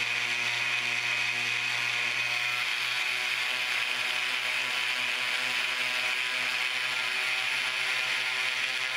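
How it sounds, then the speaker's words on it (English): A Dremel rotary tool running at its lowest speed, slowly removing a mold line from a model, a steady close whine and hum with no talk. "this is on the lowest RPM that my Dremel goes to. Just real slowly taking away the mold line"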